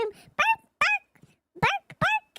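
A person imitates a small poodle's bark with a squeaky baby voice, giving five short, high yapping barks in two quick groups, close and clear.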